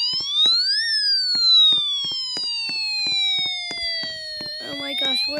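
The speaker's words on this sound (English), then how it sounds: "My alarm just went off." A loud electronic alarm in a Roblox game wails in long, slowly sweeping tones, joined near the end by rapid chirping beeps; sharp clicks and taps punctuate it.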